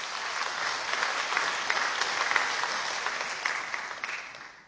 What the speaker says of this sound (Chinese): 大家掌声有请